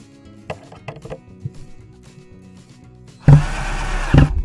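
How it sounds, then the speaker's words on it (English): Cordless power drill driving a screw into boards of a top bar beehive, a loud sustained whir of about a second near the end after quiet handling knocks and taps. "Grab my drill."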